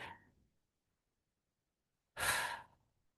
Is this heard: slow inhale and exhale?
yes